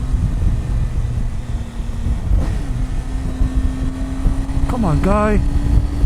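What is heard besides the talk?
Triumph Tiger 800 XRt motorcycle engine while riding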